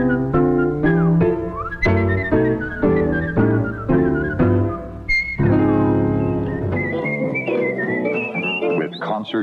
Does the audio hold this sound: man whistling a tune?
yes